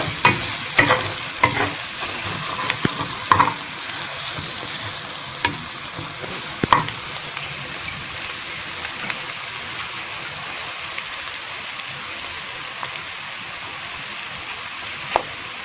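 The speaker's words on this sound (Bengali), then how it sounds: "আদার গুঁড়ো দিয়ে দিলাম, এবার এটাকে একটু নেড়ে নিলাম।" Spices with ginger powder fry in a pan with a continuous soft sizzle, broken by sharp spoon-on-pan clicks and scrapes of stirring, busiest early and thinning out later, with no speech.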